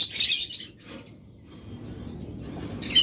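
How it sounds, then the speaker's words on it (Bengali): A pair of pet cage birds gives short, bright chirping bursts at the start and again at the end, with a quiet stretch in between. "মাস্টার পেয়ার পাখি।"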